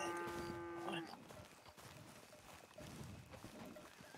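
A cow moos in El Rancho RP, one long, clear low call in the first second, then quieter game ambience with faint voices.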